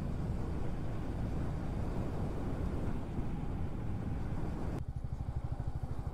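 A motorcycle cruising along a flyover, with a continuous low engine drone and wind rush. The tone shifts slightly toward the end of the ride.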